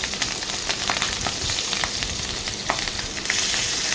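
Green chillies and cleaned small fish fry in a pan with a dense, continuous hiss, dotted with crackles and a few stirring clicks, loud and close without voices.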